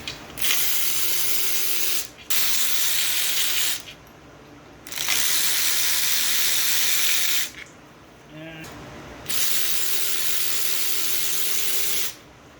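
Pneumatic impact or air ratchet tool running bolts out of a 1938 Ford timing cover, three long loud hissing, whirring bursts separated by short pauses, close and steady.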